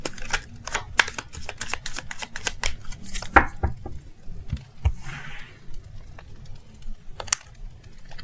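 Tarot cards drawn and laid down during a love reading, giving quick dry taps and flicks in an uneven run over a low steady hum, close and crisp.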